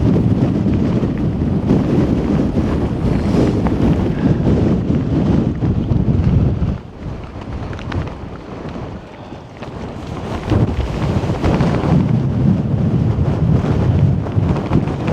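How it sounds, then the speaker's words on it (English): Strong wind roars and buffets the microphone in heavy, sustained gusts on a high Appalachian Trail section, easing briefly before surging back. "Those are some serious gusts"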